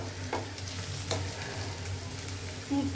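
Onion frying in a pan for a beef bhuna, a steady close sizzle with a couple of faint stirring scrapes.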